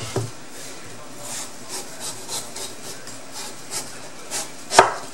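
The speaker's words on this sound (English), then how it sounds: "I'm going to peel the skin off." Skin being peeled from a Don qua squash with a steady series of soft rasping scrapes in a quiet kitchen, ending in one sharper knock near the end.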